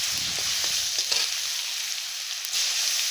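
Steady broadband sizzling of chopped tomatoes frying in hot oil with dried chillies, bay leaf and cumin, loud and close, with a few soft stirring clicks and no talking.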